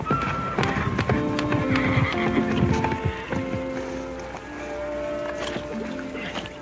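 A horse whinnies and its hooves clip-clop close by on a Western ranch, with layered hoof strikes and a clear neigh running throughout; no talking.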